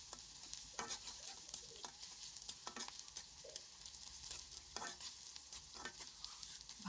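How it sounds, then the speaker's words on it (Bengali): Chopped garlic and onion fry in oil in a wok with a soft, low-level sizzle. Intermittent spatula strokes scrape and stir through the quiet crackle, and no one speaks. "রসুন কুচি আর পেঁয়াজ কুচিগুলোকে একটু ভালো করে ভেজে নিব"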